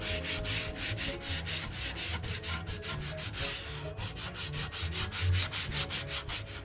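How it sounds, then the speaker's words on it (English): Steady back-and-forth strokes of 80 grit sandpaper rubbed by hand across the underside of a wooden stool seat, a rhythmic rasping repeated about twice per second, close and alone with no voices. "I sanded the underside of the seat with the same 80 grit sandpaper."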